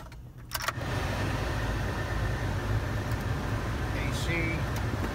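2006 Jeep Liberty engine cranking briefly and catching, then idling with a steady, loud, even rumble close by; a faint jingle of keys at the start.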